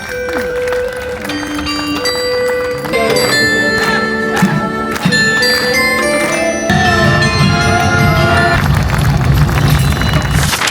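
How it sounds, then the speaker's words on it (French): Small carillon bells at Puy du Fou ring out loud and bright in layered, overlapping peals of sustained tones. Background crowd noise runs through the whole stretch. "Après faire le petit carillon."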